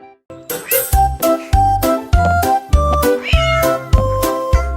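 A cartoon cat meows in a steady, evenly spaced series against a bright tinkling children's song backing, with each cry rising clearly above the music.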